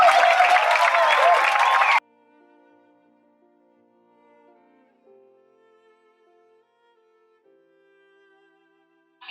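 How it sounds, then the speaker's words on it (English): Applause from an audience at a school event, a dense burst of clapping for about two seconds that stops abruptly, followed by quiet room tone. "Can we clap for them once again?"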